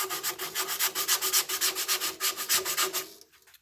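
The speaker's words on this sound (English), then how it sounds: "So a lot of hand sanding sometimes." Hand sanding a cherry burl wood bowl: rapid, even back-and-forth rasping strokes, close and steady, about two per second, stopping abruptly near the end.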